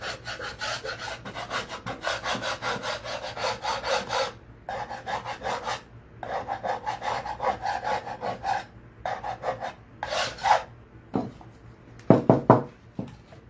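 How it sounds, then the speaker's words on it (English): Rhythmic scraping strokes of a block sanding wood, close up, in bursts separated by short pauses. "Then you use your sanding block to get those top edges."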